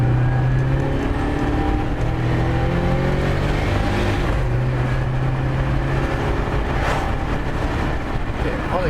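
A Subaru Forester engine hums and builds boost while driving, a steady close drone with a rising tone, heard from inside the car with a voice talking over it.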